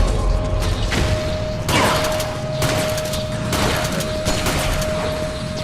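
Shotgun blasts fired at close range at drones in the game Metal Gear Solid 4, a few broad loud bursts over a steady mechanical game bed with a constant tone.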